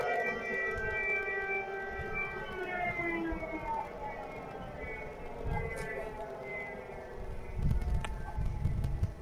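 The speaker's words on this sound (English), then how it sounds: "Those sirens have been going off about every 15 minutes or so." Civil defense air raid sirens wail over blacked-out Kyiv during wartime, long rising and falling tones drifting from a distance with a faint bird call and a speaking voice.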